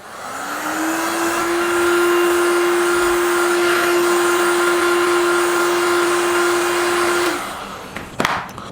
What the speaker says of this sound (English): So let me heat gun it first